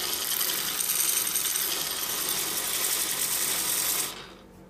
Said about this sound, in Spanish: Alta lijadora, mirá.